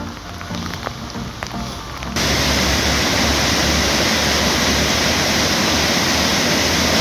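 Raging water rushes outdoors at night on a winter wild camp. A quieter stretch gives way to a loud, dense, constant roar of churning water that fills the rest, with no voices.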